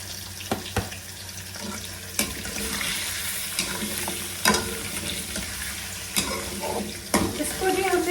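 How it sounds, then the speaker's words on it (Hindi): Chicken frying in oil in a kadhai over high heat, with a steady broad sizzle throughout and occasional sharp clinks and stirring knocks, close and moderately quiet. "सबसे पहले ऑयल में थोड़ा सा फ्राई करना है।"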